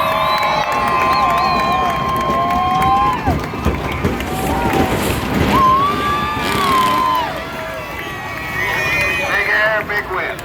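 A crowd at a summer monster truck show cheering and shouting loudly, a continuous roar of many voices with an announcer talking over it.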